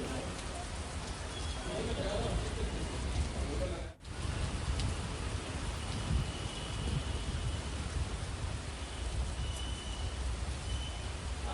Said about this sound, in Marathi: सकाळपासूनच या ठिकाणी रिमझिम पाऊस बरसतोय